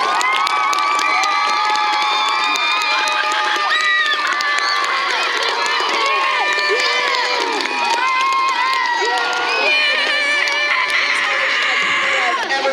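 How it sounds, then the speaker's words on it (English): An audience at an awards event cheers loudly, many high children's voices shouting and whooping together in a dense, continuous swell that stays strong throughout, with clapping not clearly distinguishable. "They deserve a round of applause."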